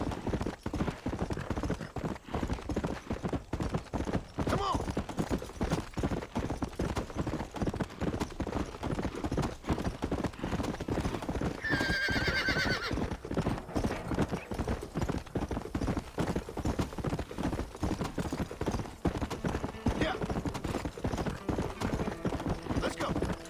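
Video game horse: steady clip-clop of hooves at a trot throughout, with a short whinny partway through and voices talking over the galloping.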